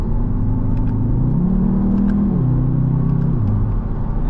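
A 2023 Audi TTS drives along, its engine a loud, steady, close hum that climbs and shifts pitch as it accelerates and changes gear, with faint road noise and no talking.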